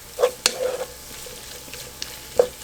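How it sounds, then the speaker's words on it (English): Chopped cabbage tumbles into a pan of frying bacon, giving a few close clatters and stirring scrapes over a soft background sizzle. "now I'm going to put my cabbage in"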